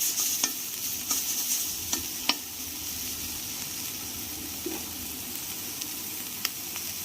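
Shell-on prawns fry in a pan with a constant bright sizzle, punctuated by sharp clicks and taps of a stirring spoon, close up and without speech.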